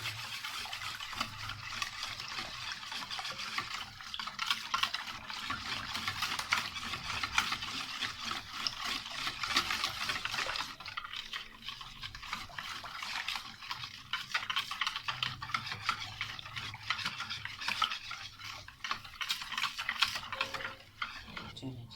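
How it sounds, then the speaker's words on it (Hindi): Yogurt is whisked with spices in a bowl for dahi phulki, a continuous rapid scraping and tapping of a whisk against the bowl, steady for the whole stretch. "चलें, सब चीज़ों को अच्छे से हम फेंट लेंगे।"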